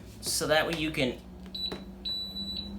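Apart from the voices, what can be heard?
electric pressure cooker beeping after being plugged in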